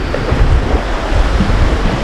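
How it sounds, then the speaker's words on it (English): Strong wind on the Gunflint Trail in northern Minnesota buffets the microphone in a steady, loud rumble, with a broad rushing roar and no voices. "Windy."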